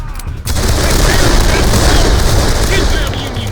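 Dense burst of Civil War era gunfire in the video game Darkest of Days, breaking in after a brief quiet moment and then rolling on as loud, continuous volleys and booms that fill the whole stretch.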